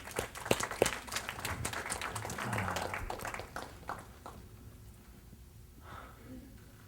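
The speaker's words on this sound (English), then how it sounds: "Give her a nice, gentle round of applause." A soft round of applause from a few people, scattered claps mixed with voices, fades out over several seconds after a laser relaxation session.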